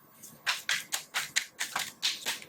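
Tarot cards shuffled in the hands in a quick series of about nine crisp riffling bursts, evenly spaced and close up, with no talking.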